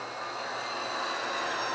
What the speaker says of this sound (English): as we watch this train coming out here